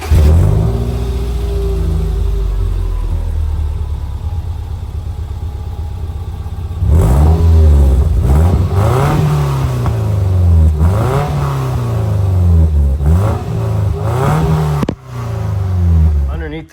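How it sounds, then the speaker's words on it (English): Subaru EJ20 boxer engine fitted with a Flashark UEL header, idling with a steady rumble before sharp repeated revs climb and fall in close rhythm, loud and near, with a brief cut near the end. "I am going to start this thing up first and give you an exhaust clip before and then after."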